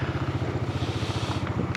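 A Honda ADV 350 scooter engine idles quietly nearby with an even, low pulsing throb that holds steady for under two seconds.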